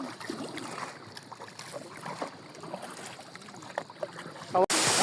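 A boat being paddled across a river near a waterfall: soft water swishes and splashes over wind noise outdoors, with a sharper bump near the end.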